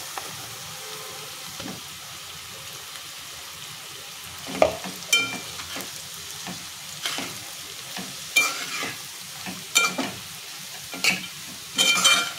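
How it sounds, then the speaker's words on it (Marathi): Crumbled leftover chapati is stir-fried with onions and turmeric in a pan, giving soft sizzling with intermittent scraping and stirring strokes, moderately close and without speech. "छान मिक्स करून परतून घ्यायचे आपल्याला"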